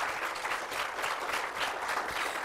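Audience applause for finalists of a children's drawing and painting contest, a dense, even crowd clapping that holds steady at moderate level throughout, with no talk over it.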